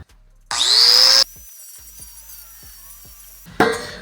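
An angle grinder grinds down fresh welds on a sheet-metal patch panel for a rusty wheel arch: a loud, high whine burst about a second long, then a quieter motor running down with faint clicks, and a second short burst at the end.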